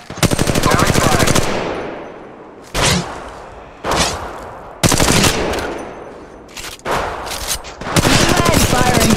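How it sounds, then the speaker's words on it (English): Gunfire in the video game Apex Legends Mobile, with loud automatic weapons firing in several long rapid bursts separated by short pauses and a few shorter volleys, all close and dominant. "Now he's firing."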